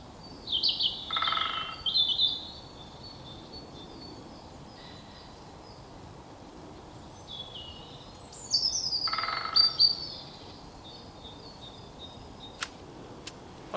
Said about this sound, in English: I take it you can hear the woodpecker there.